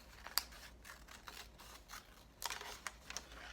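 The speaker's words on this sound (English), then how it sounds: "now I'm going to use my scissors to cut along the line" Quiet, close scissors snipping through paper in a handful of short, crisp cuts spread unevenly, with no voices.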